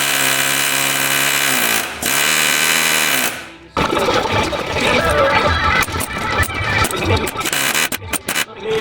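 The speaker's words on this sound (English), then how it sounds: "We're gonna drill it out a little bit more." A power drill bores out rivets on the lift of a 1987 Ford Ranger with a 4-inch lift kit. A sustained motor whine comes first, then a rough, loud grinding with a few brief interruptions.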